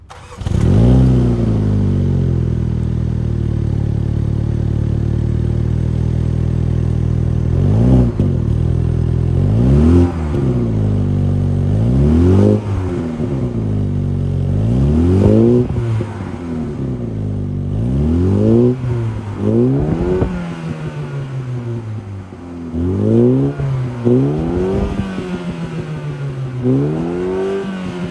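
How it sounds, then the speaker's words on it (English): A 2023 Mini Cooper S 2-liter twin-scroll turbo four-cylinder starts and idles, then is revved repeatedly in a series of sharp rising and falling bursts, loud and close with no talking. "that was the sound of the 2-liter twin-scroll turbo 4-cylinder sold by Mini for the 2023 Cooper"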